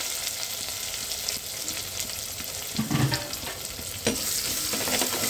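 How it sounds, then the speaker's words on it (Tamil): Onions sizzle in hot oil with mustard seeds, fenugreek and curry leaves for a stingray fish curry, a steady close crackle broken by a few soft stirring bumps near the end, with no talking. "வெங்காயம் போட்டுக்கலாம்"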